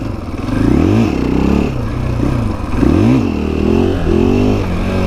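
A 2020 KTM 500 EXC-F four-stroke dirt bike revving loudly while being ridden, the engine rising and falling in repeated throttle bursts with a deep, close exhaust note and some chassis clatter.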